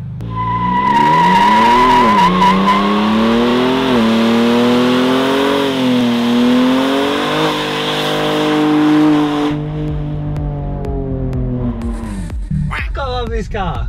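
Ford Raptor with a custom 4-inch exhaust and MagnaFlow muffler revs loudly and close, its deep droning note rising and falling through several sustained pulls before easing off, with a brief clatter at the end.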